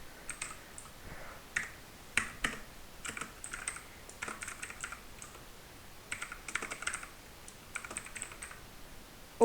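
Python code being typed on a computer keyboard: irregular bursts of quick, close key clicks with short pauses between runs, fairly quiet and with no talking.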